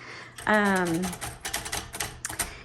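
Keys striking on a 1935 Royal Model O typewriter, a quick run of crisp clacks following a brief spoken word, close and fairly light.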